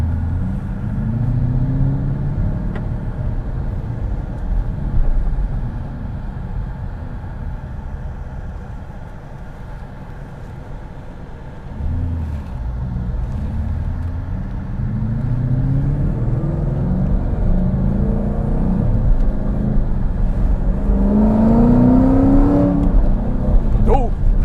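A 2017 Mustang GT on the road, its engine giving a steady loud rumble with rising revs during acceleration, under talk from people inside the car.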